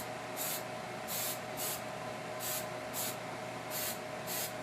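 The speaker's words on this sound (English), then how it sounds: "take the super hold hairspray and spray just the body of the tree" A can of super hold hairspray sprays the body of a miniature model tree in short bursts, about seven quick hissing puffs in uneven pairs over a steady background hum.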